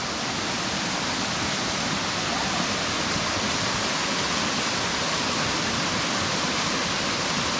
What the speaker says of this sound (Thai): นี่ให้ดูน้ำตกนะ